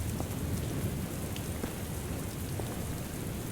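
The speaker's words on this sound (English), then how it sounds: "A rainy day, which means everything is watered." Steady, dense rain falls without pause in the farming game The Ranchers, a continuous close hiss of drops with no voices over it.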